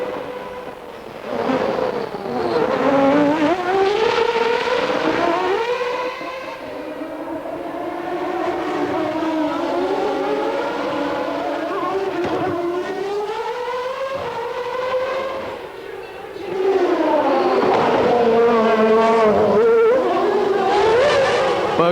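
Screaming 1994 Formula 1 cars speed past on track. High engine notes climb and fall in pitch through gear changes and pass-bys, loud and continuous throughout.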